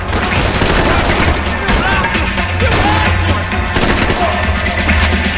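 Rapid gunfire from Max Payne 3, dense bursts of shots and booms that carry loud and continuous through the whole stretch, with someone talking over part of it.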